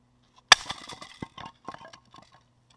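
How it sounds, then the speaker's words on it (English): A heavy weight drops straight onto an Elite Force airsoft mid-cap magazine and cracks it in half: one sharp, loud crack and clatter, then a run of smaller rattles and clinks as the pieces settle. "Just drop it straight on the top. We'll see if this will be able to take out this Elite Force mag."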